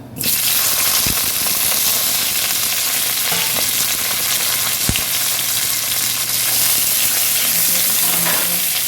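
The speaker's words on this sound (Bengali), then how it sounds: "এই তেলটার মধ্যে আমি মশলাগুলো ভেজে নেব। টমেটোটা ছেড়ে দিলাম" Tomato and spices fry in hot oil with a loud, continuous sizzle and crackle, broken by a couple of sharp knocks, with no talking.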